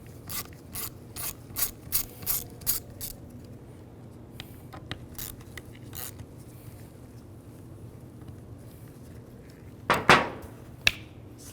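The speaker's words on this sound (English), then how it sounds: "Take these 2 screws out." Ratchet wrench with a T20 socket backing out screws from the rear cover of a 2003-07 GMC Yukon steering wheel, a run of quick close clicking strokes followed by a couple of sharper clicks after a pause.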